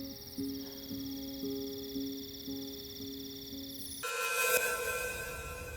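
A telephone rings with a repeated electronic bell tone in short regular bursts, then a louder, brighter burst of noise cuts in toward the end.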